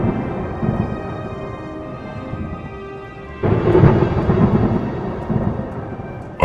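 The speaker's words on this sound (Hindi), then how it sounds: "गांव में जोरदार बारिश शुरू हो गई" Heavy village rain with thunder: a low rumbling roll builds, then a sudden louder crack and sustained boom over the steady wash of rain, with no voices.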